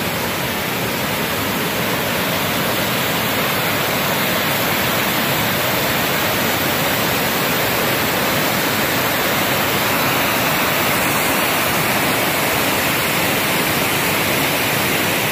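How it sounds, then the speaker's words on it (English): A waterfall roars continuously with dense, loud rushing water filling the whole stretch, heard up close at the edge of the falls with no break in the noise. "Check out the waterfalls"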